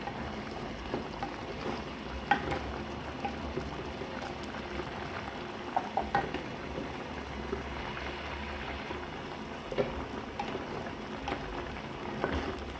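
A pot of curry bubbles gently on low heat, a soft continuous simmer with occasional small pops and clinks.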